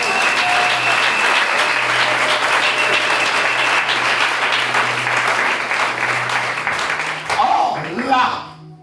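A church congregation applauds during a sermon, with dense, sustained clapping and raised voices lasting about eight seconds before tapering off near the end.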